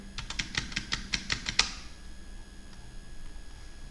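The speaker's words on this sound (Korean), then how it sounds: "이제 화면 위에서 키보드 왼쪽 오른쪽을 눌러볼게요." A rapid run of about nine crisp computer keyboard key presses clicks out in quick succession, close and clear, then stops and leaves near silence.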